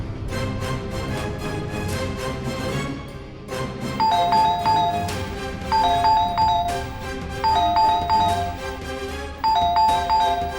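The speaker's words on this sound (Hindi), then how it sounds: "तीरा को घंटी कौन बजा रहा है?" A doorbell rings repeatedly, its ding-dong chimes sounding over and over in a steady pattern against a busy musical background.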